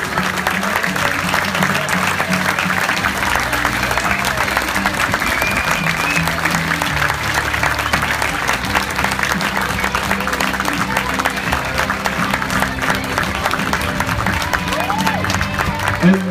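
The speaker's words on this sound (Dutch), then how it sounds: "Die applaus voor Eva Kerkhorsta en Kip Rieken." Steady applause from a large crowd at a beach volleyball event in Leuven, dense and continuous throughout, with a faint voice in the background.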